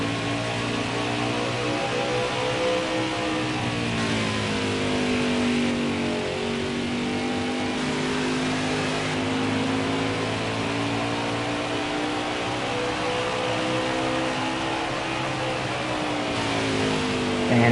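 NASCAR Craftsman Series trucks race at Richmond Raceway, giving off a loud, sustained engine roar whose pitch sweeps up and down as the trucks pass and accelerate.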